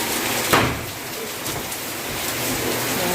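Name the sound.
heavy rain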